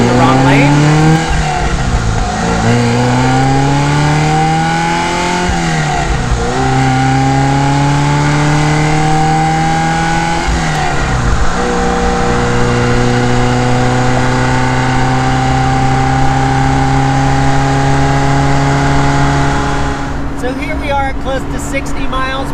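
A classic sports car with the top off and windows down cruising near 60 mph in fourth gear, its engine droning loud and close with repeated rising revs between gear changes, under a talking driver.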